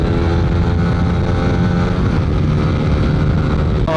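Stock-engine underbone motorcycle accelerating hard in a drag race, a loud, steady engine drone with strong harmonic whine and wind buffeting close to the microphone, holding one continuous pitch without any voices.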